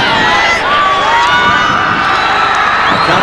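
Dense stadium crowd at a 1990 NSWRL rugby league match between the Bulldogs and the Eels, cheering and roaring continuously and loudly, with whistles and shouts rising over a commentator's voice.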